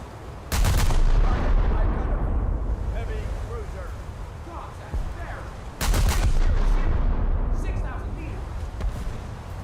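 Heavy naval guns from a cruiser in a naval combat game fire in two big booming salvos several seconds apart, each followed by a long rumbling decay over wind and sea noise.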